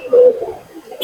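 A domestic house pigeon, one of a male and female pair, gives a brief low coo at close range, with a person talking over it.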